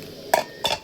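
A lid set onto a cooking pan of cauliflower curry, two quick close metallic clanks about a third of a second apart, with no talk.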